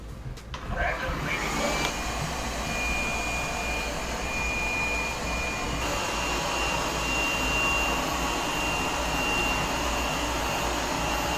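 A Lefant U180 robot vacuum and mop runs steadily after being started in auto mode, giving a continuous whirring motor hum with a high-pitched whine that holds through the whole stretch, close and fairly loud.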